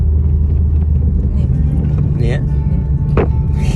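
A car being driven, its loud, steady low engine and road rumble filling the cabin while people inside talk over it.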